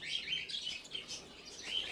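Finches chirp in a frozen winter aviary, giving rapid, high, bright tweets in quick bursts, moderately close, with no voices.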